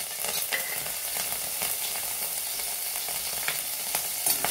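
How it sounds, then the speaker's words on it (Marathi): Chopped green chillies fry in ghee in a kadhai, giving a steady close sizzle with faint crackles and a few light stirring taps, no voices. "आता आपण कट केलेली मिरची टाकून घेणार आहोत."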